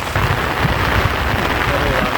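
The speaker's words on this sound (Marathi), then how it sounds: "मी छत्रीमध्ये उभा आहे आणि हे इकडे खाली पावसापासून संरक्षण करत आहे" Rain falls onto an umbrella held outdoors on a farm, producing a loud, close, steady patter and drumming that continues evenly without a break.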